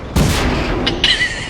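Tank cannon fire in World of Tanks: a loud, sharp blast followed by a second crack and ringing metallic tail, alone without talk.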